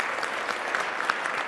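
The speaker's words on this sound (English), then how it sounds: "Another round of applause for a brave story." Applause from a live audience after a personal story, a steady dense patter of many hands clapping at moderate volume with no voices on top, lasting a brief moment.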